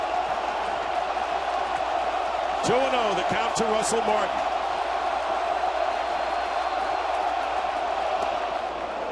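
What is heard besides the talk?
baseball stadium crowd roaring and cheering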